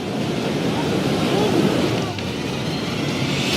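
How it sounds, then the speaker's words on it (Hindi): Strong ocean waves surging around a boat off West Cliff Drive in Santa Cruz, a steady loud roaring wash with wind noise and no clear pauses. "सेंटा क्रूज की वेस्ट क्लिफ ड्राइव में चलती बोट तेज लहरों के बीच फंस गई"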